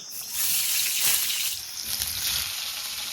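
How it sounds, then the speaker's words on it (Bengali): Potatoes frying in very hot oil in a pan sizzle in a loud, steady hiss that swells and crackles throughout, close up and with no talk. "আলুগুলো ভাজা কমপ্লিট হয়ে গেছে লাল লাল করে"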